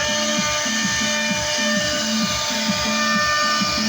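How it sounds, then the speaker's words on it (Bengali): CNC machine carving decorative patterns into wooden furniture, a steady high-pitched whining cut with a regular pulsing rhythm repeating about twice a second, loud and continuous with no talk. "সুন্দর সুন্দর নকশা তৈরি করছে খুবই এক্সপার্ট এই মেশিনগুলো এই যে সিএনসি মেশিন"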